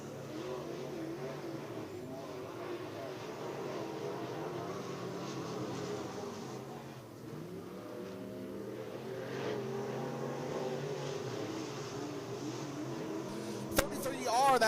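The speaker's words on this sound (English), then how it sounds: "first time behind the wheel of a race car, that is Zachary Hurley in the 67" Race car engines roar at a West Virginia Motor Speedway qualifying session, a sustained drone of cars circling the oval heard from trackside, with a commentator talking over it.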